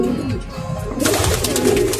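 Soft, low cooing of racing pigeons in a loft in San Ildefonso, Bulacan, repeats steadily, close and continuous, with a brighter rustle of wings or movement joining halfway through.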